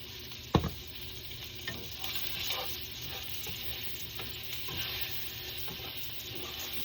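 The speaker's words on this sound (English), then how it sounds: "stir fry that around." Collard greens stir-fried in a pan make a continuous close sizzle and crackle, with a sharp utensil knock at the start and scraping stir strokes throughout. No one speaks.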